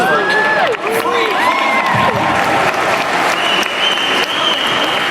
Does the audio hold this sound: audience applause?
yes